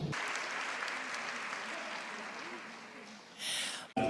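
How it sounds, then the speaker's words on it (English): Audience at a nursing school graduation ceremony applauds in a long, even wash of clapping, moderately distant, with a brief louder burst of noise near the end. "Give him a round of applause."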